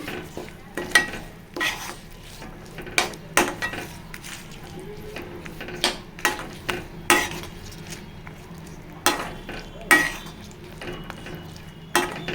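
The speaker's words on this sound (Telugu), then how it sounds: "పల్లి నూనెతోనే తాలింపు పెట్టుకోవాలండి" Red chili chutney being tempered in peanut oil in a metal pan: repeated sharp spoon clinks and scrapes at an irregular pace, close by, over a faint background hiss.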